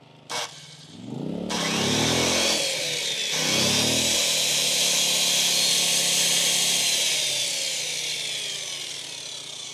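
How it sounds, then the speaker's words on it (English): A PowerSmart 2500W portable generator starts up and settles into a low idle in eco mode, its engine droning steadily and fairly loud after a short opening rattle. "When you turn eco mode on, the throttle drops down to a very low idle"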